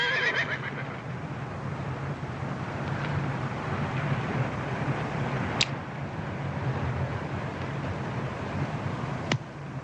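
A horse neighs loudly at the start, then whinnies again faintly mid-clip, over steady wind and outdoor noise in a classic Western setting, with sharp clicks or bangs near six and nine and a half seconds.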